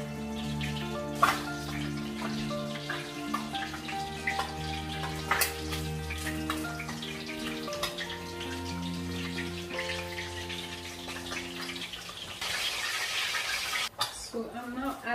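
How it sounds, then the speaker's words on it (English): Water is poured into a pot of beans cooking for a cassava and beans meal. The steady pouring and bubbling wash runs under continuous background music, with a brighter, louder splash near the end. "adding more water into the beans"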